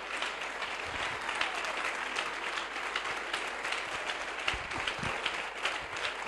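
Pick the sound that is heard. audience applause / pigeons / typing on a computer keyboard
audience applause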